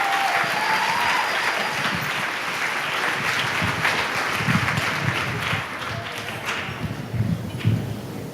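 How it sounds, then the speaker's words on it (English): A large crowd claps and applauds steadily and loudly throughout, a dense wash of clapping without a break. "Please clap it up for my friend and my brother, Mr. Michael Turner."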